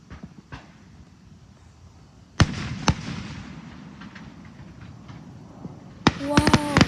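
Fireworks go off at a display: scattered sharp bangs and crackles sound at moderate distance, and a denser burst of reports erupts toward the end with faint voices in the background.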